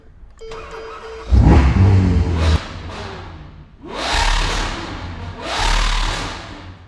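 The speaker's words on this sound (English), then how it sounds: "to start the car, I just push that button" A sports car engine cranks and fires up at a push-button start with a loud thump, idles with a deep rumble, then revs twice in strong, roaring swells.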